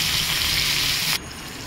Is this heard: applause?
no